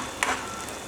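Curry leaves drop into hot oil with onions for a homemade tomato curry, giving a short, close sizzle that flares briefly and then settles into a soft, steady crackle.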